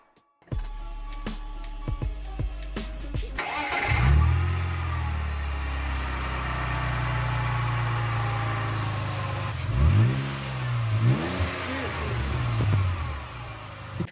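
A car engine with a misfire fault, just after its ignition coils are refitted, cranks with a few clicks, catches, and settles into a steady idle, with a couple of brief revs rising and falling partway through.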